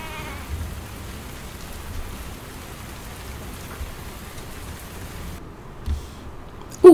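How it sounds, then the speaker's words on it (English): Rain falls steadily in the video game Tavern Talk, a soft, even patter that holds at a low level throughout, broken by a brief louder knock near the end. "Oh, it's raining again."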